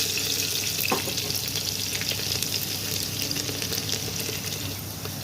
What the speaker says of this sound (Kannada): ಇವಾಗ ಬೆಳ್ಳುಳ್ಳಿ ಹಾಕ್ಕೊಳ್ಳೋಣ. ಕುಟ್ಟಿಟ್ಟಿರೋಂಥ ಬೆಳ್ಳುಳ್ಳಿ.